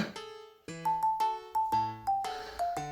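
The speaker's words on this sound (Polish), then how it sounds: "Przecież to dzwony w kościele napierdalają" Church bells ringing in a series of clear, resonant strikes, each tone ringing out and decaying before the next, at steady volume with no talk over them.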